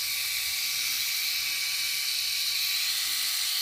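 A JINDING electric five-headed flex-head shaver runs alone at close range, giving a steady, even high-pitched buzz that holds without a break from start to finish.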